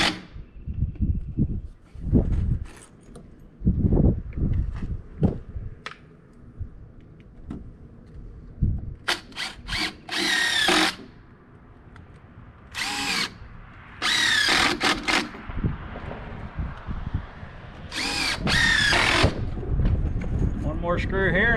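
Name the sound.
power drill driving screws into wood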